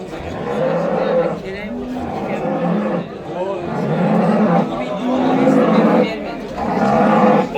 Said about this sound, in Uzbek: Yirik sigir.